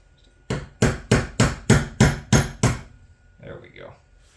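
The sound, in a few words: hammering a pin punch on an anvil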